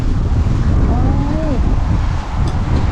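Gusting wind ahead of an approaching rainstorm roars steadily across the microphone in a rural Thai setting, a continuous loud rush with a faint whistling tone midway.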